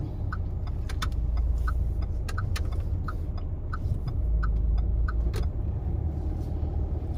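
Car engine rumbling low and steady as it pulls away slowly in first gear during a driving exam route in Rosny-sous-Bois, with a few faint clicks over the continuous drone.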